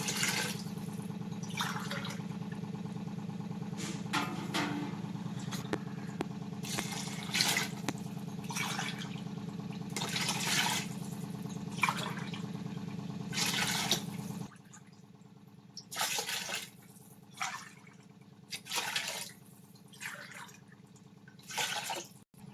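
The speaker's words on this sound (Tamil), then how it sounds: "6 கிளாஸ் அரிசிக்கு 9 கிளாஸ் தண்ணி ஊற்றுறேன்." Water is poured in steady glass-by-glass streams onto rice in a pot for dum biryani, nine glasses for six glasses of rice, each pour a continuous splashing rush that later gives way to shorter separate splashes.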